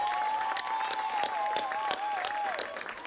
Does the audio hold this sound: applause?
yes